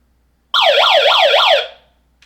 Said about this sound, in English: Has a siren, which is pretty loud